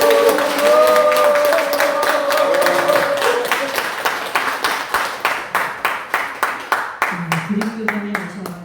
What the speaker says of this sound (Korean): 우리 학사원님께 다시 한번 큰 박수 부탁드립니다